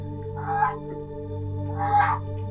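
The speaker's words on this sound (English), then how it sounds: "So if y'all hear the geese in the background, that's the screaming that's going on." Two loud, harsh honks come from geese walking across a yard outside a slightly open window, spaced over a steady low background hum.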